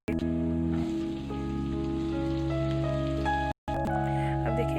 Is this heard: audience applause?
no